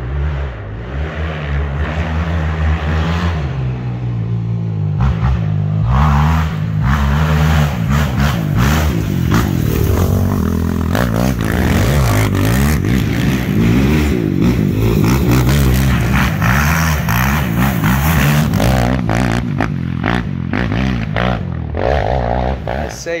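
A Yamaha YFZ450R quad's single-cylinder engine runs loud and close, rising and falling through repeated revs over a steady throaty idle, with someone talking over it at the start.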